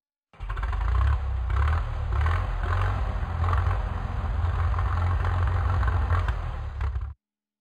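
Tractor engine running steadily at a low, rumbling idle with some mechanical clatter, fairly loud and continuous for about seven seconds with no talk.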